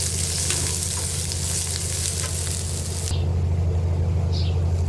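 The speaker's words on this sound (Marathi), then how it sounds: "तेल टाकून घेतले थोडंसं आणि आता कांदा व्यवस्थित भाजून घेणार आहे मी" Chopped onion roasting in oil in a pan for a chicken rassa, a dense continuous sizzle and crackle over a low rumbling hum that grows steadier toward the end.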